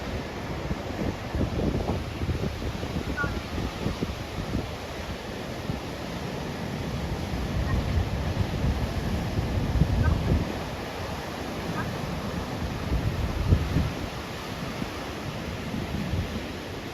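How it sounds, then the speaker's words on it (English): Big foamy ocean waves breaking under an offshore wind, a continuous rumbling roar of surf with rising and falling swells and steady wind noise across the microphone. "Big waves, right? Lots of foam. Offshore wind."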